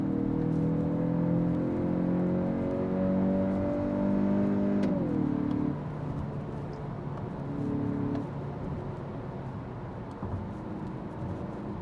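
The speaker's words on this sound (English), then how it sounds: "Engine noise, fake engine noise." A 2022 Kia Sportage T-GDI GT Line's engine, partly artificial engine sound, hums and revs with rising pitch, then drops as a gear shifts, followed by steady road and engine drone.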